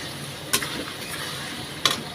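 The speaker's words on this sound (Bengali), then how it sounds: "দিয়ে আবারও ভালোভাবে নাড়াচাড়া করে নেব" Tengra fish frying in a pan with turmeric powder stirred in, a steady soft sizzle broken by two sharp scraping clinks of the spatula about a second apart, close and moderately quiet with no voices.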